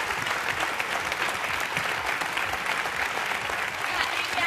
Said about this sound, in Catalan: Doncs un fort aplaudiment